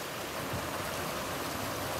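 A creek beside a hiking trail on the Pacific Crest Trail at Mission Creek rushes steadily, a continuous close wash of flowing water with no voices.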